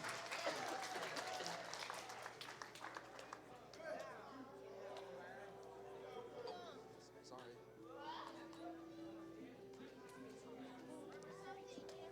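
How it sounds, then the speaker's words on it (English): An audience at a live-streamed event claps and cheers, loud at first and then thinning as music and a voice carry on over the fading applause. "Give them a big round of applause"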